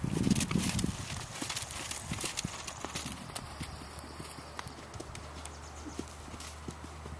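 A horse canters a large circle in an indoor arena during a riding clinic, its hoofbeats thudding in a steady rolling rhythm at moderate distance, with a faint voice in the background.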